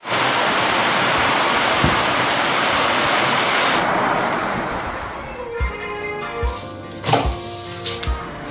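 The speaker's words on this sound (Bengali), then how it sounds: "আজকে শুরু হয়ে গেছে প্রচণ্ড জোরে বৃষ্টি আর ঝোড়ো হাওয়া।" Heavy monsoon rain and stormy wind make a dense, loud roar for about four seconds, then ease into a softer wash broken by scattered knocks and clatters.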